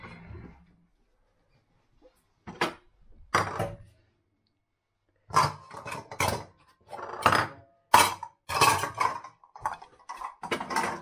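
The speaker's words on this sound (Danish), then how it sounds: "Vi mangler lige at vaske det op her." Dishes, pots and lids being washed and put away in a home kitchen: sharp clinks, clatters and knocks of crockery and metal in irregular bursts, separated by quiet pauses.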